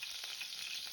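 Tomatoes sizzling in a teaspoon of oil with a pinch of salt in a kadai, a steady, bright crackling hiss held close and alone without talk.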